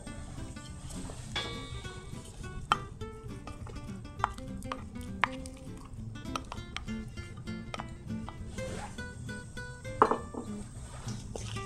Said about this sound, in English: Mix the flour and butter together until they resemble a course meal.